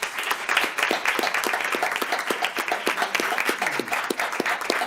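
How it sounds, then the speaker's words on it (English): Audience applause for an elementary school staff member at a school board meeting: a modest crowd claps steadily, individual claps crisp and distinct, fairly close, with no talk over it. "Let's give her a round of applause."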